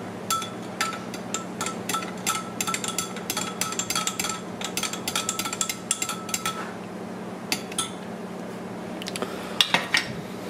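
A metal spoon clinks rapidly against the inside of a glass while stirring, a fast run of bright taps that turns sparse with a few final clinks.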